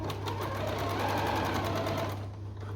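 A home sewing machine runs steadily in reverse to lock the first stitch at the start of a seam on children's pyjamas, with a close, continuous, rapid mechanical whir that fades slightly at the end.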